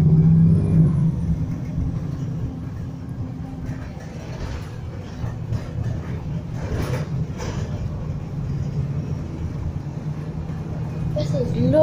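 Bus 1493 drives along with a low, steady engine rumble and hum filling the cabin from inside, while people talk over it.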